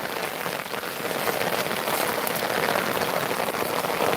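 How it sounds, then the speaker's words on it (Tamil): Steady rain pours down in Tirunelveli, a dense continuous hiss of drops hitting surfaces nearby, with no voices. "மழை அப்படியே கூடுது"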